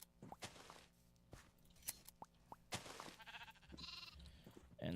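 Sheep bleat in the Sky Factory 5 game, with several short cries scattered among small crunching and popping game sounds, quiet and close, with no talk.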